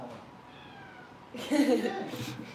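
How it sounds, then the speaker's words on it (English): Luna the cat gives a faint meow early on, then a louder, drawn-out meow overlaps someone talking to her indoors. "She's meowing at me."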